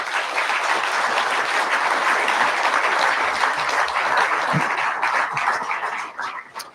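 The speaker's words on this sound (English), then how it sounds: "let's give TI a big round of applause." An audience at a Utah event for Texas Instruments breaks into dense, sustained applause, loud and steady from the start, then thinning and fading out over the last second.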